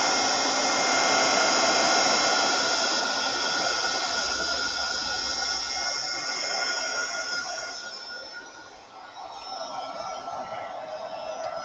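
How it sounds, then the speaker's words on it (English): Heat gun blowing hot air to dry paint on paper in a craft session, a loud, steady, close whine and rushing roar that holds for several seconds and dips briefly near the end, with no talking. "Now I'm going to use my heat gun. Just dry this up a little bit."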